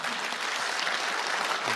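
An audience at a rural village development concert-lecture claps in a steady, dense wash of applause that stays loud and even throughout the short stretch.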